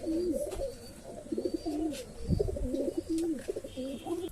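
Pigeons coo repeatedly in a home loft, their soft throaty calls overlapping in a steady close chorus with occasional wing rustles.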